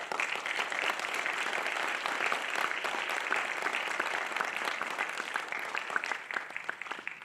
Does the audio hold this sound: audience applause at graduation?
yes